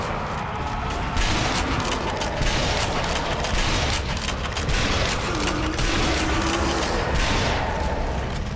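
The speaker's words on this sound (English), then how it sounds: "Shot him a couple of times." Gunfire in the video game Sniper Elite: Nazi Zombie Army while shooting zombies, a dense, continuous barrage of shots and booms under a busy game soundscape, with no speech.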